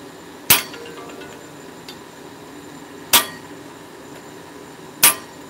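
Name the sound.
hammer striking annealed hammer while forging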